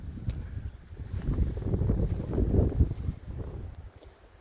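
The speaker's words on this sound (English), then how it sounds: "What a gentle sway of the wind sounds nice and soothing" A gentle outdoor wind blows in soft, uneven gusts, a low rumbling rush that swells and fades without any speech.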